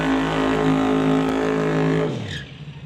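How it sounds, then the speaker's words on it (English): Nick Duda's Pro Street drag car at Mission Raceway Park does a burnout on Mickey Thompson slicks, the engine holding a loud steady high-rpm roar for two seconds before cutting off and trailing away, no talk. "Nice big smoky burnout to get some heat and clean off those Mickey Thompson slicks in the back of Nick Duda's machine"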